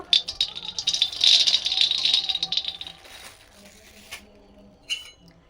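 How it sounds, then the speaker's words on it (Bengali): Peanuts rattle and patter continuously in a wok as they are stirred while roasting for a chutney, fading out after about three seconds, with a few faint clinks afterward. "কড়া বসিয়ে দিয়েছি, প্রথমে আমি বাদামগুলো ভেজে নেব।"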